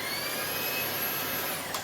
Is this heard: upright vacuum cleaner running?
yes